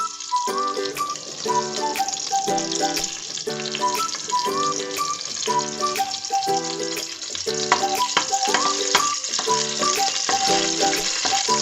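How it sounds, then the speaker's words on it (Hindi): Cardamom pods frying in a little oil for zarda rice give a steady sizzle throughout, with light stirring clinks and scrapes repeating at a regular pace, close and clear with no talking. "थोड़ा सा ऑयल के अंदर हम इलायचियों को इस तरह से फ्राई करेंगे ताकि अच्छी से खुशबू आ जाए।"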